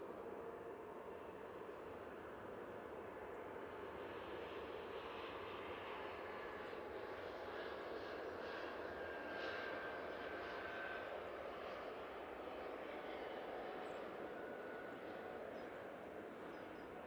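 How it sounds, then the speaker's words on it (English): An Air France Airbus A220 jet taking off from Manchester Airport is heard as a faint, distant and steady engine roar that holds evenly from start to finish. "Air France A220 going back to Paris Charles de Gaulle after the night stop"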